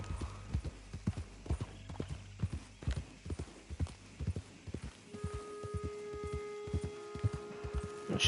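Horse hooves clip-clop at a steady walking pace in the Red Dead Redemption video game, close and moderately quiet, alongside soft game ambience and tonal background music.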